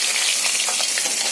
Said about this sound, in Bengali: এই দেখো মাছ ভাজা চলছে